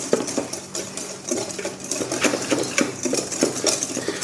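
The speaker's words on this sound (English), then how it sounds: "So whisk these so that they're nicely incorporated first." Hushpuppy batter ingredients, including flour, whisked together in a bowl: quick, rhythmic clinking and scraping of the whisk against the bowl, close and steady, with no talking.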